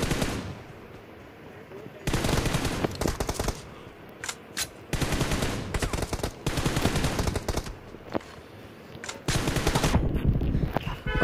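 Repeated automatic gunfire in the battle royale game BGMI, long loud bursts of rapid shots separated by short gaps, close and dominant, with no one talking over it.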